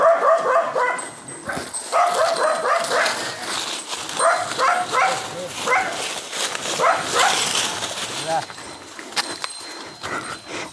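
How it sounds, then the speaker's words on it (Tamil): A dog yips, whimpers and barks in short excited bursts close by while people talk over it. "இங்க சவுண்டு மட்டும் தான் கேக்குது நாய்க்கான"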